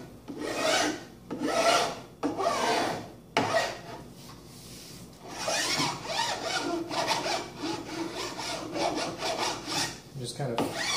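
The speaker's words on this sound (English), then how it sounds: "And I just use a regular flat file. It's got ridges on the edge of it as well as the face." A regular flat file with ridged edge and face rasps along an edge while building a snake rack, giving repeated scraping strokes, some long and loud, then quicker, lighter passes, close up with no talk.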